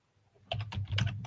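Rapid clicking keystrokes on a computer keyboard while typing names, close and crisp, starting after a brief quiet moment and continuing in a quick burst of taps.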